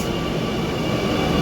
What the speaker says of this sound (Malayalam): അങ്ങനെ മെട്രോ വന്നുകൊണ്ടിരിക്കുകയാണ്